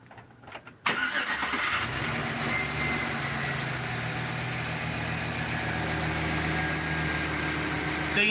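A car engine cranks and catches about a second in, then settles into a steady, smooth idle that runs evenly and fairly loud until the end, with no talking.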